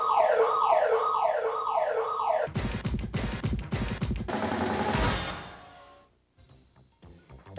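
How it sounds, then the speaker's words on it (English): A zoo snakebite alarm under test sounds as a loud warbling electronic siren, then switches to a rapid harsh rattling pulse and a buzzing tone before cutting off, followed by faint clicks. "Bill, Andy, I'm about to test the snakebite alarm."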